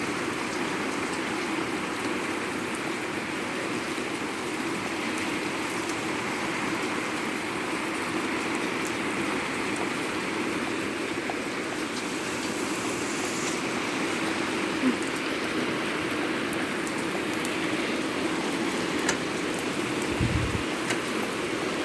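Torrential rain from a heavy thunderstorm with high winds pours in a dense, unbroken hiss for the whole stretch, with no distinct thunderclap standing out.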